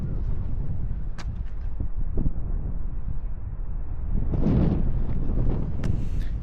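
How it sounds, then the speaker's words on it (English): Strong wind buffeting an Insta360 Ace Pro 2 action camera microphone outdoors, a constant low rumbling roar with gusty bursts, heaviest toward the end. "that wind's really strong. So is that microphone clear, and is it blocking out that wind noise?"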